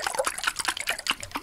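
ASMR water splashing comes close and alone, a string of soft wet splashes and trickling dribbles in an uneven rhythm, with no voice over it.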